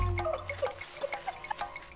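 Drinking water in the survival game Green Hell, heard as a short run of quiet gulping and dripping water sounds, a few small splashes spaced unevenly over about two seconds, with no talk.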